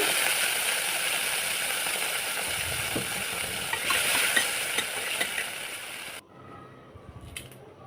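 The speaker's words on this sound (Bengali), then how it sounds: "আগে প্রথমে সয়া সস অ্যাড করে দিচ্ছি" Soy sauce poured over potatoes frying in a pan, a loud continuous sizzle with scraping stir sounds that swells briefly and then cuts abruptly to near silence, leaving a faint clink.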